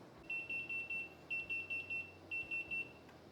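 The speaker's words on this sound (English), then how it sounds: "that's our 35-minute timer" A kitchen oven timer set for 35 minutes during small-batch tomato processing beeps in three bursts of four quick electronic tones each, clear and evenly spaced over a low background hum.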